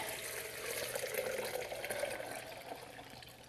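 Purified water pours steadily into a blender jar over soaked nuts, a soft continuous splashing and trickling that swells slightly midway. It lasts a few seconds and is heard alone.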